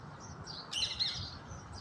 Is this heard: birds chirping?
yes